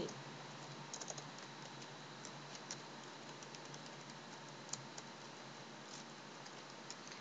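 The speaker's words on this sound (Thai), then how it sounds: "พิมพ์ชื่อตัวเองลงไป" Someone types a name on a computer keyboard, a quiet run of irregular key clicks and taps over a faint, steady room hiss, heard close and alone.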